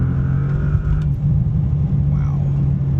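A 2025 Bentley Continental GT Speed in sport mode on a road, with a deep steady engine drone and rumble heard from inside the cabin, rising slightly under acceleration while someone talks over it.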